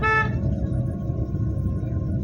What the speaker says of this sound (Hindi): चलो हॉर्न दो